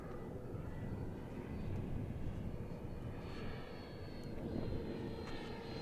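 An RC F4D Skyray model jet flies overhead on a landing approach with its gear down, a continuous whooshing engine roar that stays at a moderate distance and rises and falls gently.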